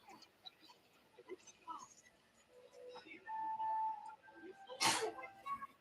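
One sudden sneeze bursts out near the end, loud against a quiet background of faint murmuring speech and soft scattered noises.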